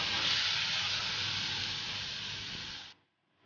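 Chopped garlic and tomato fry in a pan, giving a steady, bright sizzle that holds for nearly three seconds and then cuts off abruptly into near silence.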